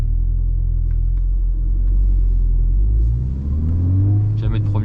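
A VW Golf 6 R accelerating from inside the cabin, a loud deep engine rumble rising in pitch through the revs, dipping at a gear change and climbing again, with brief talk near the end.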